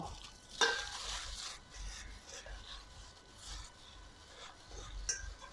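Spicy Thai fermented pork salad (yam naem) with onion and chili being tossed and mixed by hand or with a utensil: close, soft wet stirring and rubbing in a steady rhythm, with a couple of sharper clinks.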